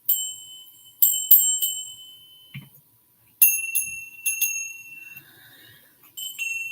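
Two small bells of the same kind but with different pitches ring one after another in separate bursts, clear sustained metallic tones that fade between strikes, close up with no voices.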